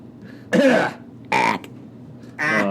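Three short, throaty coughs or throat-clearing sounds, separated by brief pauses, close and fairly loud.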